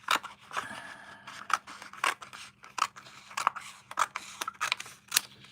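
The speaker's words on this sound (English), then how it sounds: "So I'm going to cut around it." Scissors snip around paper scraps for a handmade card, giving a run of crisp, close cuts in an irregular rhythm with short pauses between strokes and no talking.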